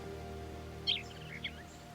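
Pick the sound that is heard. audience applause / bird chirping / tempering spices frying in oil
bird chirping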